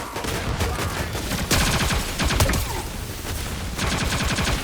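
Rapid automatic weapon fire from a Fortnite match, loud and continuous bursts with short gaps and a heavier volley near the middle, with game sound effects mixed in.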